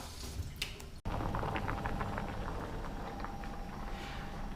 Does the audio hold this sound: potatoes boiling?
yes